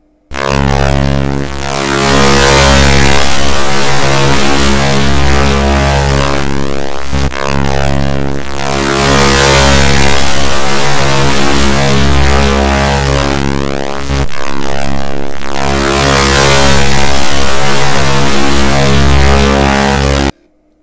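Picture sonified into sound with SoX: a dense, steady drone of stacked buzzing tones filling the whole range, loud and continuous for about twenty seconds with brief breaks near every seven seconds.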